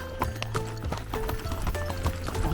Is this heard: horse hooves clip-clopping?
yes